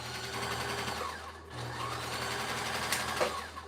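A sewing machine stitches fabric for a handmade puppet, its needle running over pins. The motor whirs steadily and close up, dips briefly near the middle, then resumes its even mechanical hum to the end.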